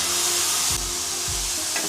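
Half a kilo of chicken frying in a hot pan for pepper chicken chukka, a dense, steady sizzle close up with two soft thumps of stirring or pieces settling, no voices.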